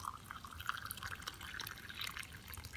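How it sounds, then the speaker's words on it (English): Water pours from close by onto a China Congou tea bag in a cup, a continuous splashing trickle at low level with no talk. "So let's pour some water on there"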